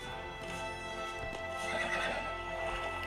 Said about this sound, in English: It whinnies!